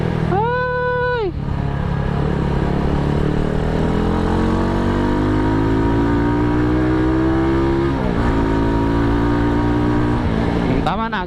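A Yamaha Mio-style motorcycle with a new aftermarket exhaust muffler, heard while riding: a loud, continuous engine drone that climbs steadily in pitch as it accelerates, with short gear-change dips and a brief high whine at the start.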